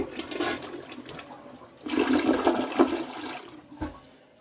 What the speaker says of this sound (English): give it a big flush.